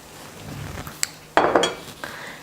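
A waffle goes into a waffle maker with a few light metallic clinks and a brief clattering knock of the lid and plates, close and short, over faint room noise.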